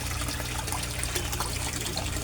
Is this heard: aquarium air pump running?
yes